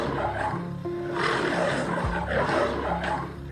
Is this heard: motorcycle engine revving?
no